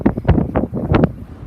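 Strong, cold March wind at a Maryland sandbar buffets the microphone in loud, irregular gusts and rumbling bursts, close and rough with no talking.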